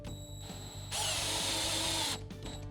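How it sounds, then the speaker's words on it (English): A power drill driving a screw hook whirs steadily for about a second, a brief close burst of driving that ends abruptly, with a faint mechanical hum before and after. "run the drill in a forward direction"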